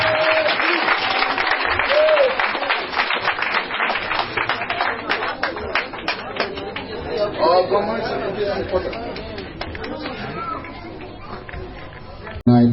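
Wedding guests clap and applaud steadily for the newly united couple at a church ceremony, with crowd chatter running through the sustained applause.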